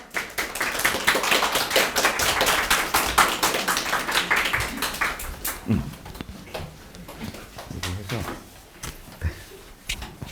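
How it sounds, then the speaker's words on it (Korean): An audience of parents at a high school university admissions briefing claps to welcome a speaker, a moderate patter of hands that tapers into sparse claps, with some talking and room noise as it dies down. "작은 박수로 모셔주기 바랍니다"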